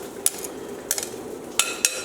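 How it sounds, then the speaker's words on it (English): Tomatoes, olives and capers being mixed for a Niçoise salad beside steelhead trout and warm potatoes. A utensil gives four sharp, close clinks against the bowl at irregular intervals over soft stirring, with no talking. "Now you want to mix it up a little bit."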